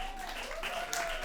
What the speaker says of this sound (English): We'll wait till the clapping.